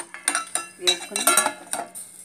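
A spoon stirs tomato pulusu with turmeric and salt in a pot, making a run of close, uneven metallic scrapes and clinks against the pot's sides with no talking.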